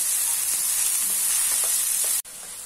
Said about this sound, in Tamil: கேப்சிகம் பட்டாணி சேர்த்து 1 நிமிஷம் நல்லா எண்ணெயில வதக்கிருக்கிறோங்க.